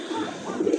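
Big-sized pigeons give a short burst of low cooing calls, fairly close and moderately loud, with no talk over them.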